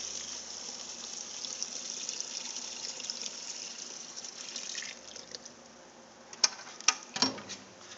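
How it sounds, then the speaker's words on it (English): Solvent pours steadily into the chamber of a BECCA solvent distillation recycler, a continuous, close liquid rush lasting several seconds, followed by a few sharp clinks and splashes as the pour ends. "simply pour the solvent to be recycled directly into the chamber"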